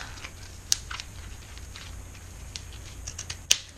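Scissors snipping at a dollar-store marker being taken apart to make ink, two sharp close clicks of the blades over light handling noise and faint taps.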